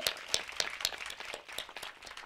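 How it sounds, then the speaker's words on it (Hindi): Faint clapping from a small group at a film premiere, with distinct hand claps arriving in a loose, uneven rhythm, fairly quiet and distant. "तो जोरदार तालियां।"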